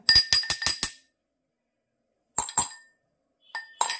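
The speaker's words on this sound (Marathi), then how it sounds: "आतले जे दाणे आहेत ते कुटून घेऊया।" Cardamom seeds being pounded in a small mortar, a quick run of six sharp clinking strikes, then a pause, then a few more scattered hits, close and crisp with no voices.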